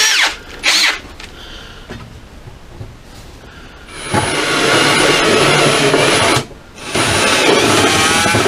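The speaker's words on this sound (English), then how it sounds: "put a step drill on the inside, on the outside in, to get the right size hole" A step drill bores a hole in a small shed workshop while wiring up a cyclekart: a loud, close, sustained grinding whine after a few brief knocks, pausing briefly before continuing.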